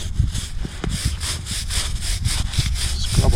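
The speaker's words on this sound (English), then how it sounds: "scrub all the way around on it" A brush scrubs moss and grime off a granite gravestone in quick, rhythmic back-and-forth strokes, close and fairly loud, with a few faint knocks.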